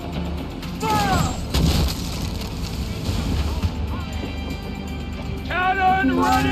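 Ship cannon fire from a pirate naval battle in the Assassin's Creed IV: Black Flag video game, with booming blasts and rumbling impacts over churning background, while voices shout orders throughout.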